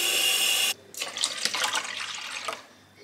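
About 300 ml of water is poured into a pan already holding milk for boiling stockfish. A short loud gush stops abruptly, then a few seconds of lighter splashing and trickling follow, close by.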